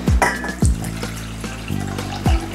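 Water is poured into a bowl of potato flour and potato starch for making fufu, giving several close, short splashing gushes separated by brief pauses, with no talking.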